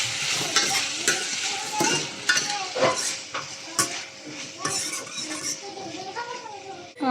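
Snake gourd and potato pieces sizzle in a pan with sautéed onion while a spoon stirs and scrapes against the metal in irregular bursts, close and clear, with a faint voice.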